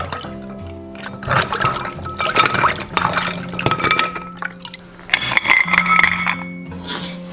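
Sea snails being washed in water, with splashing, running water and the clink of shells knocking against a bowl in irregular bursts.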